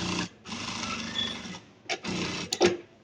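A Zoje A-8200 single needle sewing machine stitches in steady whirring bursts, one long run and then shorter ones, close and fairly loud with no talking.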